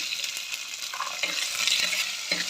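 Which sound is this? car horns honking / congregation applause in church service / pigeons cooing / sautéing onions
sautéing onions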